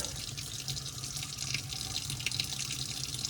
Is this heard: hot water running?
yes